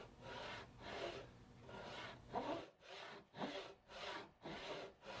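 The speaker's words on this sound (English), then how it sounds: "So along each line, I cut a kerf to a set depth." A hand saw cuts kerfs into a wooden breasthook for a boat's sheer structure, rasping in steady back-and-forth strokes, close and clear, about two slower strokes then a quicker run of five.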